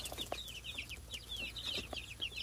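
Several chickens cluck in a coop, with busy, overlapping calls repeating close by over a low steady hum.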